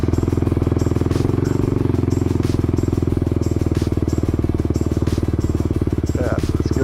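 A Suzuki LTR450 quad racer is ridden near a museum area at the Silver Reef ghost town. Its engine drones steadily and close up for the whole stretch, with a constant buzzing throb and no pauses.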